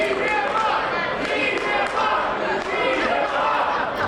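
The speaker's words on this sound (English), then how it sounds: "Another music hall crowd." A wrestling crowd in a music hall roars and chants continuously, dense cheering and shouting filling the room with a commentator talking over it.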